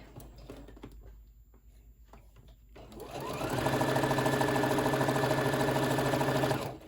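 A sewing machine stitches straight across a tote bag piece, starting after a few seconds of quiet rustling and then running as a steady, loud, continuous whir to the end.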